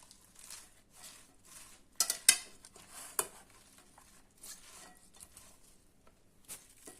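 A spoon stirs a breakfast mixture with strawberry pieces in a pot, giving soft scraping and clinking strokes with a few sharper knocks against the metal, close and alone with no talk.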